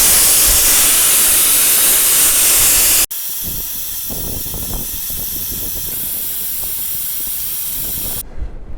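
Air rushes out of a tyre through a deflator valve on an overland vehicle, a loud steady hiss that drops to a lower, rougher rushing partway through and cuts off near the end.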